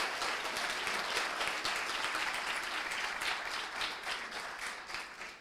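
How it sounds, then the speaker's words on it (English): An audience at a Les Roches commencement ceremony claps for the faculty and staff. The applause is full and continuous for over five seconds, then gradually tapers. "I would please ask for a round of applause to all the faculty and staff that have accompanied you"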